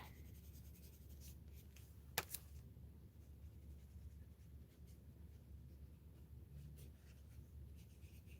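Inktense colored pencil shading on paper makes a soft, steady scratching rub, quiet and close, continuing evenly with one sharp click partway through and no talking.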